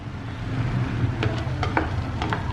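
Vegetables sautéing in a pan with a little broth give off a steady sizzle, with several scraping clicks from a utensil stirring through the food.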